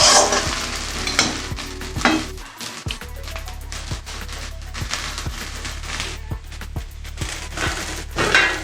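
Cabbage stir-frying in a pan, sizzling under repeated sharp clacks and scrapes of a spatula in an uneven rhythm, close and fairly loud, with no voices.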